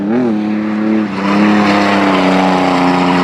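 A Ford Ranger drift truck revs hard and holds a loud, sustained engine howl as it drifts around a course at a drift event, rising in pitch partway through, close and continuous.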